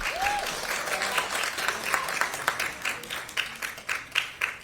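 Audience clapping at a city council meeting, a scattered burst of applause from the public gallery that thins into a few sharp, separate claps toward the end, moderately distant.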